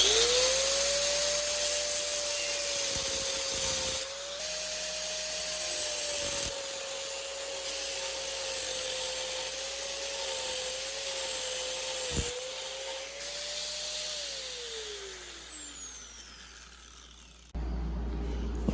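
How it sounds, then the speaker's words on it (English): An angle grinder fitted with a thin slitting blade cuts a slot down a bolt's center, a steady high whine holding for about fifteen seconds with brief dips, then spinning down and stopping. "I've got a slitting blade in my grinder, and I'm going to see if I can be steady enough, if I can grind a slot down the middle of that."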